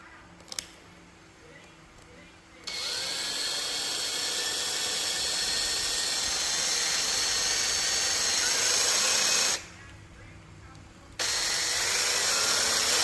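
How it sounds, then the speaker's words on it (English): A power drill with a 1/4-inch bit bores holes in wood during a spiral duct install, with a long, steady whining run of about seven seconds, a brief pause, then the drilling resumes. "I'm just gonna use a 1/4-inch drill bit, drill out these holes"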